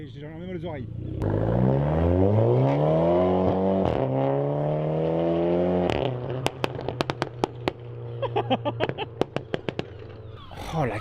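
Someone's car revving hard, its engine note climbing and falling through long sustained pulls, then a rapid burst of loud exhaust pops and crackles like gunfire, with people talking over it.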